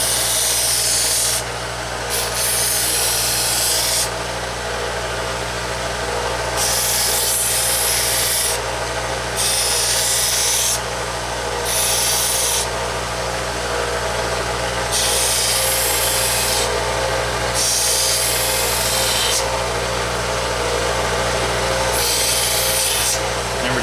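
A belt sander grinds steadily against wood while a bow edge is rounded, its abrasive rasping swelling and easing in repeated passes over a constant motor hum, loud and close with no talk.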